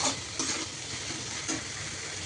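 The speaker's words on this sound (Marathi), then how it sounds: "अशा प्रकारे आपण कांदा चांगला परतून घेऊया." Onion frying with ginger, green chili and garlic gives a steady, fairly loud sizzle with a few soft stirring scrapes.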